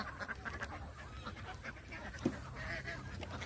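Farm ducks quack and honk in a noisy, continuous chorus at a duck farm, with one sharper call standing out briefly amid the steady flock noise.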